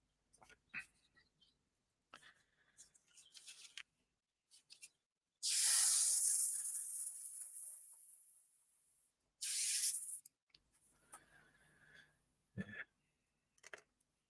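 An aerosol can sprays primer onto a 1/32 scale Albatros D model aircraft kit in two bursts, one long hiss of about four seconds and a shorter one, between faint clicks and handling noises indoors.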